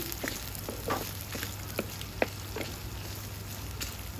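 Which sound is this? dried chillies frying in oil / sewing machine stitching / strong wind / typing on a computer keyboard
dried chillies frying in oil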